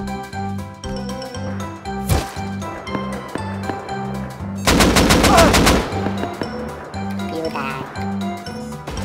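Rapid automatic gunfire crackles through a burst in the survival video game Rust, with single shots around it, all over a repeating music loop.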